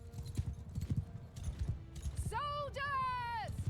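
A horse galloping in the game Mount and Blade II: Bannerlord, with rapid steady hoofbeats, a loud whinny near the end and someone talking over it.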